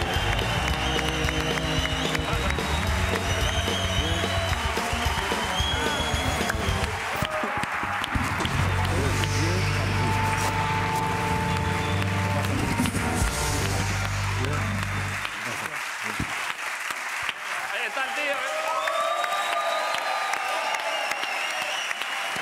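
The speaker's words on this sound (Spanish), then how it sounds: "Un aplauso para Morad en la Resistencia." Loud, sustained applause from a large television studio audience fills the clip, steady clapping with some cheering, thinning slightly toward the end.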